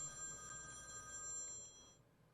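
An electronic telephone ringing for an incoming call on a radio morning show, a steady repeating ring heard alone for about two seconds before cutting off.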